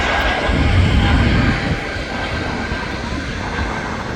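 An Etihad airliner at Manchester Airport fills the air with a loud, steady jet engine roar that swells slightly and then holds at a broad, rumbling level throughout.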